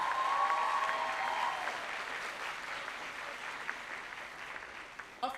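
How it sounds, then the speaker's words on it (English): Graduating class of 2026 applauds at a school valedictory service, a dense burst of clapping that starts loud and gradually thins and fades over several seconds, with a few scattered claps near the end. "Give yourselves a round of applause."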